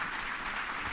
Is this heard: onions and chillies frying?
no